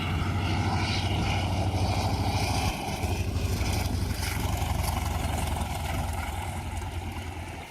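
Steady droning propeller engine of a vintage fighter plane near a beach, loud and continuous, with a rough pulsing buzz throughout and no voices.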